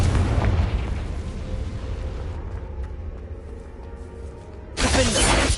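Confringo, a fire spell in Hogwarts Legacy, bursts in a loud booming blast with a rumbling, crackling tail that fades before another burst hits near the end.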